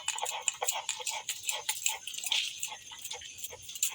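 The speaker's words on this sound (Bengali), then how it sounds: "এইভাবে সব ভাত বেটে নেবো" Leftover cooked rice being ground without water on a stone shil slab, heard as close, rapid, rhythmic scraping strokes that repeat evenly throughout.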